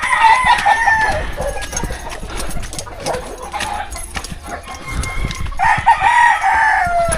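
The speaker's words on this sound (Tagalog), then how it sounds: "Puro manok." Chickens cluck and scuffle close by in a busy flock while a rooster crows loudly at the start and again near the end.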